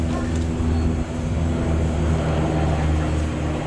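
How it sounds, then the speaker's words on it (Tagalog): Helicopter flying overhead outdoors, heard as a steady, fairly loud droning rotor and engine noise that holds continuously for the whole stretch. "Sky, may helicopter, oh."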